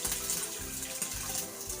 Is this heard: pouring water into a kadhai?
yes